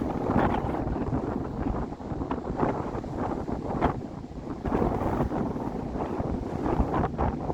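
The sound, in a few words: wind blowing on a beach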